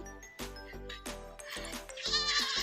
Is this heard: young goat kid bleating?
yes